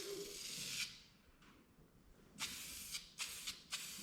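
Spray paint can laying down a light coat on parts, short bursts of hissing spray, one longer pass followed by several quick close puffs with quiet gaps between.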